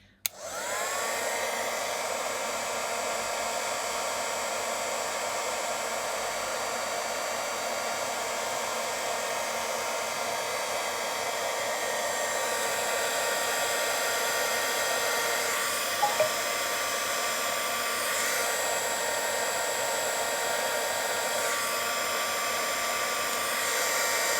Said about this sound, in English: bring the heat gun back a bit further and keep warming until I can lift it all away